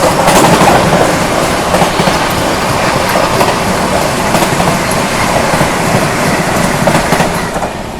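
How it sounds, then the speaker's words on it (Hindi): The 22435 Varanasi–New Delhi Vande Bharat Express rushes close by, a loud continuous rumble of wheels with rhythmic clickety-clack over the rail joints throughout. "यहाँ पे सामने से आती है 22435 वाराणसी नई दिल्ली वंदे भारत एक्सप्रेस आती हुई।"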